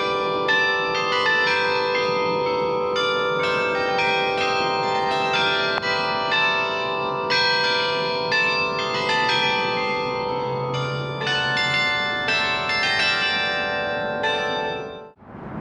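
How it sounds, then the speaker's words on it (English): A carillon of 95 bells rings from the tops of the twin towers at the Tennessee Bicentennial Capitol Mall in Nashville, a dense, loud, continuous peal of overlapping tones that holds steady before cutting off abruptly at the end. "in the top of the towers, there are 95 bells, which represent all of the Tennessee 95 counties."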